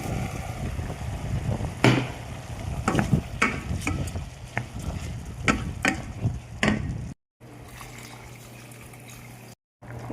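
Cooked rice tipped into a pot of cooked lentils, giving a run of scraping, stirring and soft clattering knocks against the pot over a steady low simmer, then a quieter stretch of bubbling after a short break.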